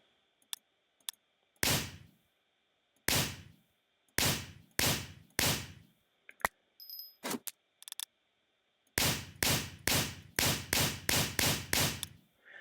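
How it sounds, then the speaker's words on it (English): Revolver gunfire in Minecraft with the Immersive Engineering mod: a few single shots spaced a second or more apart, then a fast volley of about eight sharp cracks near the end, with no talking. "now my revolver is loaded, and I can take aim at my target and very slowly fire."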